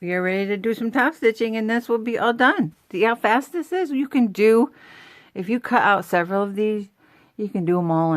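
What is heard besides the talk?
None of the usual background noises is heard.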